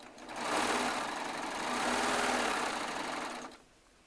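A Baby Lock Triumph serger runs in one continuous loud burst of about three seconds, whirring steadily as it stitches pieced fabric and trims off the thread tails, then stops abruptly.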